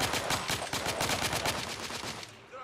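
Rapid video game gunfire from The Order: 1886, a dense burst of repeated shots in steady rhythm that fills the scene loudly and then thins out near the end.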